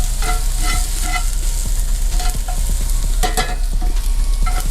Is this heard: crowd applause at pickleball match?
no